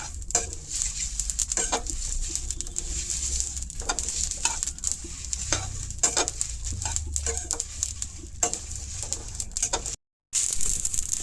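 Whole spices for mixed pickle dry-roasting and being stirred in a hot pan, a steady crackling sizzle with scraping stir strokes and small pops, broken by a brief silence near the end.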